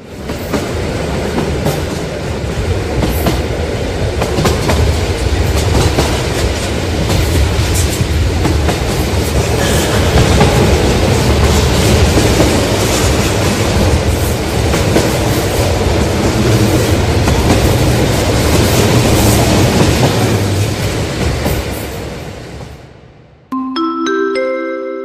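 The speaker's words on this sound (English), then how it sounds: "The train is leaving." A loud, continuous rumble of a moving train in Roblox with rattling wheels and clatter, steady throughout before ending with a short chime-like tone.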